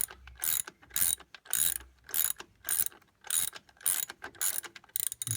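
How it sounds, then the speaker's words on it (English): A ratchet clicks in repeated bursts as it tightens the fan belt adjustment bolt on a Toyota Landcruiser, close and fairly quiet, with short pauses between strokes. "So now we're going to tighten up the fan belt with the fan belt adjustment bolt."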